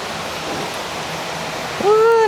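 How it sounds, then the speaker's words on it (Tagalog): Steady broadband rush of the Labasin Waterfalls at Villa Escudero, a man-made falls at a resort's hydroelectric outlet, filling the scene continuously; a brief whistle-like tone rises near the end over the roar. "Labasin Waterfalls entrance."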